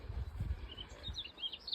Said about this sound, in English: Mostly just getting birdsong right here